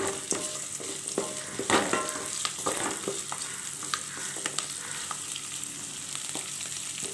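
Plenty of small onions sautéing in a pan for brinjal pachadi, a close, continuous sizzle broken by frequent sharp spatula scrapes and taps.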